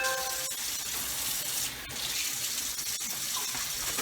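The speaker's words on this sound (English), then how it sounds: "add me some water to it and get it mixed up" Water running from a kitchen tap into hush puppy batter mix, a steady close gushing stream that fills the whole stretch with no one talking.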